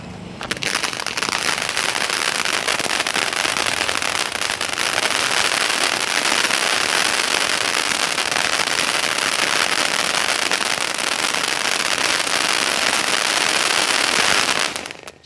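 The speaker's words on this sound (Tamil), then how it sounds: "இது டெண்டர் கோகனட் இது வந்து த்ரீ பீஸ் இருக்கும் இது கிராக்லிங் பவுண்டன்" A Tender Coconut crackling fountain firework goes off, a loud, dense, continuous hiss of rapid crackles sustained for about fourteen seconds before cutting off, with no talking.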